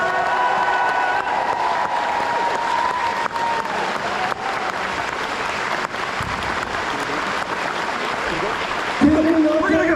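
A conference audience at TGS 2024 applauds Teryl Rothery and Michael Shanks, a steady dense wash of clapping lasting throughout, with a host speaking over it near the end.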